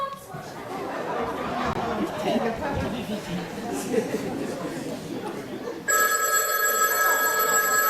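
A telephone bell starts ringing near the end, after a stretch of indoor chatter and voices during an amateur theatre performance. The ring is steady and fairly loud.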